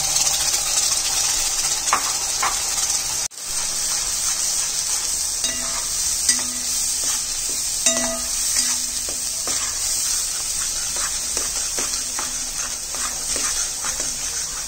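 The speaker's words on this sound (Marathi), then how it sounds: "सर्व मसाला छान परतून घ्यावा" Onion-coconut masala for misal pav sautéing in a pan, with a loud continuous sizzle and repeated scraping stirs, while a dog whimpers and barks intermittently in the background.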